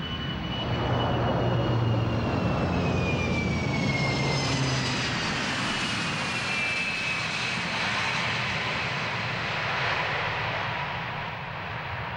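A fixed-wing aircraft at Hong Kong's international airport near the city centre roars loudly and steadily, with a descending whine from the engines as it passes, no speech.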